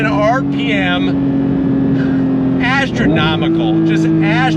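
A Porsche 992 911 GT3 Touring with a manual gearbox and flat-six engine revs hard toward 9,000 RPM, a sustained loud engine tone rising in pitch, while someone talks excitedly over it.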